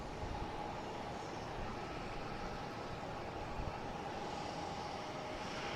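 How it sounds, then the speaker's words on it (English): An Air France Airbus A350-900 arriving at Boston Logan produces a steady, broadband jet roar that holds evenly throughout, distant and moderately faint with no talk. "we got Air France coming in, an A350-900. Flight 332 coming in from Paris."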